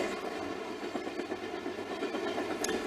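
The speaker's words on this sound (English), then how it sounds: "This train was only a small branch line, an 8-hour run that connected up with the main Trans-Canada line." A passenger train runs along a small branch line in Nova Scotia between Sydney and Halifax, a steady close rumble with faint clatter continuing throughout.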